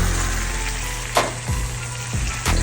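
Tomato sauce poured into a pan of sautéed minced chili peppers and adobo sauce at a fire station kitchen, a steady close sizzle with a few sharp splashing bursts as liquid hits the hot pan.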